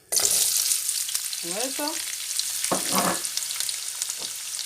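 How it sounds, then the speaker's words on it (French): Onions tipped into hot oil left from cooking meat burst into a loud, dense, close sizzle that keeps hissing steadily, with a woman's short remark and a few clinks over it. "Comme l'huile venait de cuire la viande, elle est chaude fatalement. Donc, on va pouvoir mettre des oignons."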